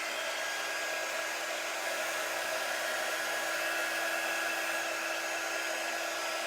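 A hair dryer blows steadily over chalk paste on a craft project, a constant close whooshing hiss with a thin motor whine and no pauses.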